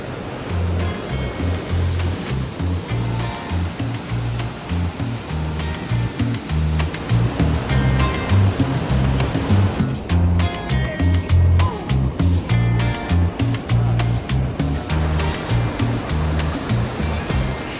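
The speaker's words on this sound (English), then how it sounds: "the next main attraction, which is the waterfall named after a devil's throat" Devil's Throat at Iguazu Falls thunders with a massive, unbroken roar of falling water, loud and close, holding steady with only slight surges.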